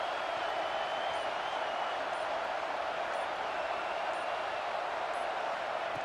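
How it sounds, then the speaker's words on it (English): Football stadium crowd roars in a dense, steady wash of noise that holds loud and unbroken throughout, with no gaps or individual voices standing out. "listen to this crowd noise. This stadium is vibrating."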